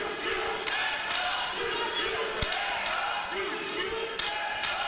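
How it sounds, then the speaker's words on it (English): A wrestling crowd packs the hall at London Comic Con during a 2018 Canusa Classic match, a steady dense roar with scattered shouts and a few sharp thuds. "Listen to this crowd."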